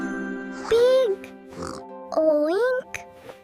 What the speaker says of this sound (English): Oink. P.